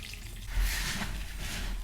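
Water is poured into a wet clay mix during a rehousing, making a soft, close splash and trickle that swells briefly and then settles into a quiet, steady flow.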